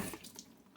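Water running from a tap to prime Berkey water filters during setup, a brief, steady splashing flow with no talk over it.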